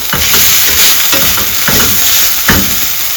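Ginger and garlic sizzle and fry steadily in a pan over a low gas flame, a continuous close hiss broken by several brief stirring scrapes.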